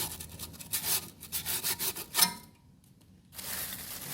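Sandpaper rubs rust off a water pump part in quick, scratchy back-and-forth strokes. After a short pause the rasping starts again, close and fairly quiet, with no voices.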